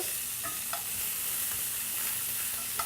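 Fish sizzles and fries in a pan as it is turned, a steady bright crackle with a few soft scraping knocks of the utensil, close and without talk.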